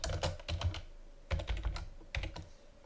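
Close computer keyboard typing as a flashcard question is entered, quick clusters of key clicks in three short bursts with brief pauses between, no talk.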